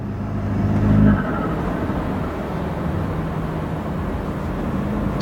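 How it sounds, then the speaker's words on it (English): BMW F30 accelerating from inside the cabin, with a steady engine and road drone, a brief quick rise and drop in pitch as the automatic transmission makes a fast upshift, and then an even hum. "It shifts fast even in comfort."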